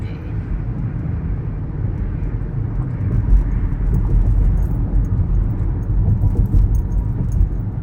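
Steady low engine and road rumble from a car driving on a chilly morning commute, continuous and fairly loud from inside the cabin throughout, with no talking.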